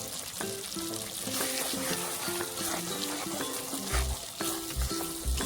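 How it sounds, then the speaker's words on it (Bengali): Prawn malai curry masala sautéing in a pan, a steady close sizzle with scraping stirs and a few louder low knocks near the end, no talking. "এই দেখুন একদম কষানো হয়ে গেছে"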